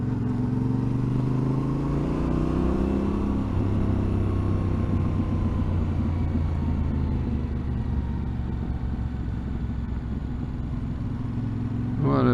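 A Yamaha Tenere 700 motorcycle rides along a gravel road, its engine droning steadily and close with a rising pitch early on, rumbling continuously beneath wind and tyre noise.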